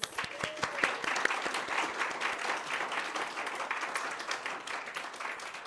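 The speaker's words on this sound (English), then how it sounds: "One more round of applause." Applause from a seated audience at a university Three Minute Thesis competition, a steady wash of clapping that holds level for several seconds, with a few sharper individual claps standing out near the start.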